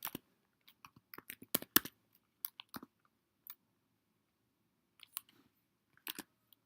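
Sparse, quiet clicks of typing on a computer keyboard, a quick cluster of keystrokes followed by a few isolated taps separated by silence.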